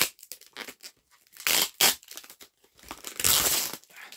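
Close, crackly tearing and crinkling in short bursts, then longer ripping pulls of tape being peeled off a plastic DVD case, with no voices.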